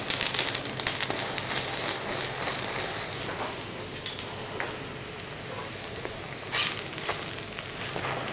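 A bun kabab fries in ghee on a hot griddle, giving a steady, close sizzle with soft crackles throughout and no talking.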